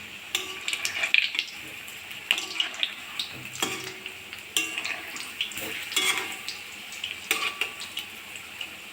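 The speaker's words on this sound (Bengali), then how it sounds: "উল্টে পাল্টে ভালো করে ভেজে নেবো" Palm fruit fritters made with coconut fry in hot white oil in a wok, giving a continuous sizzle. Bursts of stirring, scraping and metallic utensil clinks come as the fritters are turned over and over.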